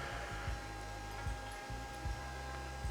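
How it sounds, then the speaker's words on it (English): An IceRiver KS2 Kaspa crypto miner's power supply fan gives a steady, continuous whine with tonal hum, joined by a few brief low thumps, with no talking. "that whine noise is coming from right here, the power supply"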